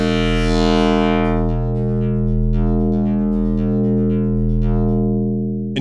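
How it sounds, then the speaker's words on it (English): A dark synth drone shaped with dampening in the Filterverse plugin. It is a steady, sustained tone that stays loud and continuous for the whole clip, and its bright upper overtones fade out over time. "In this case, I want a nice dark drone,"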